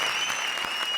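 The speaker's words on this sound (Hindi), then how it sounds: "जोरदार तालियां" Studio audience applause on a Hindi comedy stage show during a qawwali performance, steady dense clapping filling the whole moment at close range, with a faint sustained tone running underneath.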